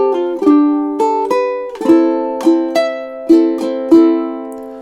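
Plucked ukulele plays measures 12 and 13 of a theme, a short syncopated phrase of bright strummed chords and single notes, close and clear with no voice.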